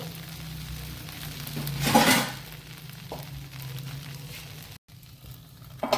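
Red rice (kuchalakki) oggarane dosa cooks in ghee on a lidded pan. A soft, even sizzle runs throughout, with one brief louder swell and a short clatter near the end, all fairly quiet.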